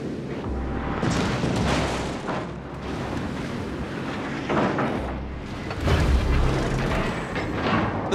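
Ship explosions and heavy gunfire in World of Warships naval combat, a sustained roar of booms and rumbling blasts with louder bursts near the middle and end, no talking.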